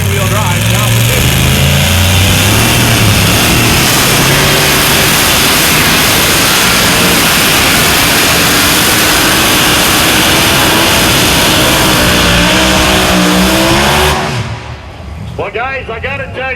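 Modified tractor engine revving hard and continuously at a two-wheel-drive tractor pull, a loud sustained roar with rising and falling pitch down the field, cutting off abruptly near the end before a faint tail.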